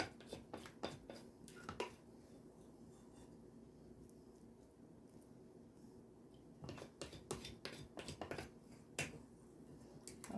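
Zucchini bread batter scraped from a mixing bowl, giving faint, close scrapes and clicks in irregular bursts, with a quieter stretch in the middle.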